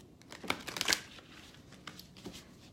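Quick riffling and flicking of tarot cards being shuffled close by, a brisk flurry early on, then a few lighter shuffles.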